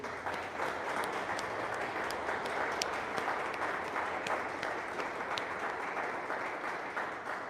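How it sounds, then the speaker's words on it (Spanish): A church audience gives a sustained round of applause for the Franciscan tertiaries at a Saint Elizabeth of Hungary celebration, soft and even, heard from some distance in a reverberant space. "vamos a darles un aplauso a los terciarios franciscanos que están aquí presentes"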